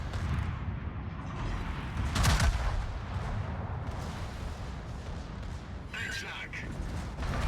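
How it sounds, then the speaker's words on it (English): Secondary guns firing aboard the warship Prinz Eitel Friedrich in World of Warships, a steady rumble of repeated booming shots and mechanical clatter, with louder bursts standing out over continuous battle noise while someone talks. "And now the secondaries are going."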